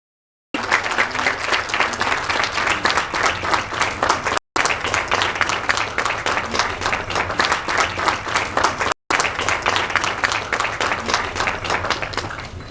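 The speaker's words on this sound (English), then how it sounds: "Another round of applause for her until she sees" An audience at the African Young Women Leaders Fellowship Programme in Kigali, Rwanda, gives sustained applause, dense rapid clapping from many hands that continues steadily and is broken by two brief cuts.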